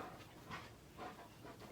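Several dogs pant and whimper indoors on a Saturday morning, a faint, steady run of breathy huffs with soft whines rising in a few louder pulses, with no voices.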